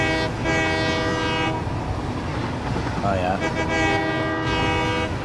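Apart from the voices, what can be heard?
train horn honking in the Satisfactory video game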